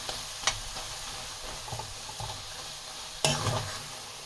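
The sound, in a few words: soya keema cooking on slow flame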